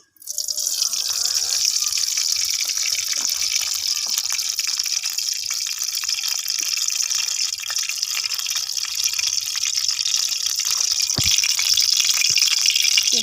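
Cold tap water gushes steadily over boiled homemade wheat-flour pasta, a loud continuous rushing stream close by, with a few small knocks near the end.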